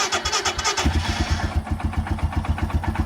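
A Royal Enfield Himalayan motorcycle engine cranks over and catches, settling into a rapid, throbbing idle close by that sounds somewhat weak.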